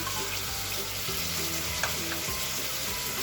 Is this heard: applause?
no